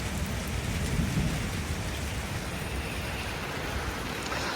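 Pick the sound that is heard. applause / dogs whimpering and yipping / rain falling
rain falling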